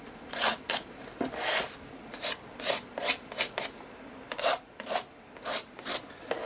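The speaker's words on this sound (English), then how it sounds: "I've got a spatula and I'm going to scrape it into and across the page" Spatula scraping paint into and across an art journal page, a series of close, rough rasping strokes in irregular bursts with short pauses between them and no voices.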